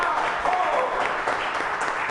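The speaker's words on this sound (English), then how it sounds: "That deserves a round of applause." A brief burst of audience applause, steady and fairly loud, with a murmur of crowd voices mixed in.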